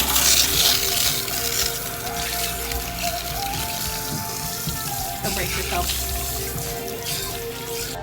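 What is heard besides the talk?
rinsing hair in cool tap water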